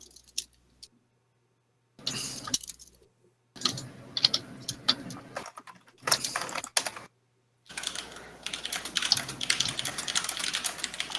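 Fast, uneven clatter of typing on a computer keyboard during a Shadowrun tabletop RPG session, arriving in several close, busy bursts separated by short silences, with no voices.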